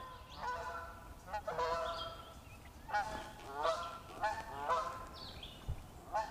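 A goose honking beside a lake, repeated loud nasal honks in irregular bursts, several calls close by over a low outdoor background, no talking.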